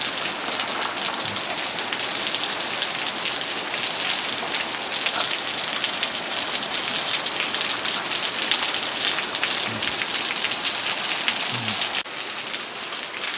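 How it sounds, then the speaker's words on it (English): Heavy hurricane rain pours steadily and loudly onto surfaces, a dense unbroken hiss of drops that stays constant throughout with no voices. "It's actually raining. And now it's getting a little bit more harsh."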